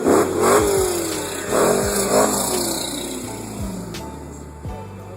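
Black Dodge Challenger 392 SRT8 with a 6.1-liter supercharged V8 in the Forza racing game, revving hard in several rising and falling sweeps, loud and close at first, then easing into a lower drone, with no talk.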